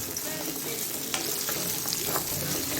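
Whole small shallots sizzling in hot oil in a pan, a steady, dense crackle with occasional sharper pops, close and continuous with no talking.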